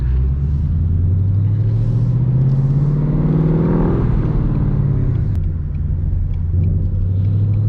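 A ProCharger-supercharged Ford Mustang accelerates hard, its engine note climbing steadily for about four seconds, then dropping off and settling into a lower rumble, loud and close from inside the car with no talking.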